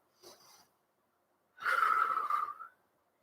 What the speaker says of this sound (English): Nice deep breath in, get it all the way to your diaphragm.